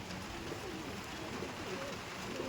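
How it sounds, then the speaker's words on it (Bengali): Black-eyed carrier pigeons coo softly in a loft, faint repeated throaty calls against a hissy background. "এইগুলো হলো কালো চোখের মালবাহী পায়রা নতুন আনা হয়েছে"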